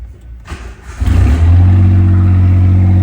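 Suzuki Alto Works CR22S cranks briefly, then catches and starts, settling into a loud, steady idle with a strong low hum, close up.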